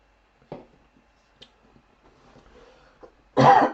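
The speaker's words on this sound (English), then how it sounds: "a little bit of a cough came through." A few small throat sounds in near silence, then a sudden loud, close cough at the end.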